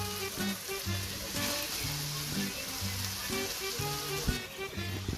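Ground pork giniling fries in a pan, browning with a steady, soft sizzle and crackle that stays fairly quiet throughout.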